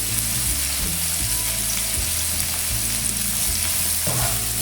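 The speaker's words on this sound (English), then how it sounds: "Until the onions become translucent. Let's stir it again." Onions sizzling in a pan while being stirred, a constant bright frying hiss broken by rhythmic scraping strokes of a utensil, close and steady.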